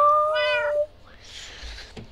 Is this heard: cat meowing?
yes